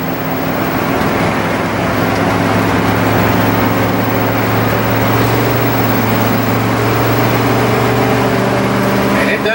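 A 1996 Fleetwood Bounder 35U Class A gas motorhome with a Banks exhaust labors up a steep hill, its low, meaty engine drone steady and close under intermittent talking.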